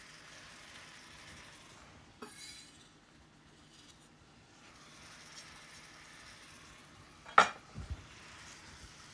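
Onions and garlic stirred in a pan, with a quiet low cooking hiss under sparse utensil scrapes and a sharper clatter near the end; no talking.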